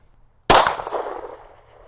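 A single sharp gunshot from a PSA Dagger Glock-clone pistol, loud and close, its crack decaying into a short ringing tail in otherwise quiet surroundings.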